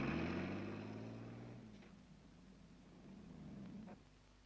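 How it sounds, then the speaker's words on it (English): A snowcat tracked vehicle from the Antarctic crossing at Scott Base runs its engine with a steady low rumbling drone, loudest at first and then settling to a quieter idle-like hum. "This snowcat was one of those used in Fuchs' crossing of Antarctica."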